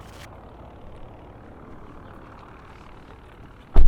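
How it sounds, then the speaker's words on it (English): A propeller airplane idles some distance away, giving a steady, low, rumbling drone that ends in a sudden loud thump. "Something very loud is idling over there. Is it an airplane?"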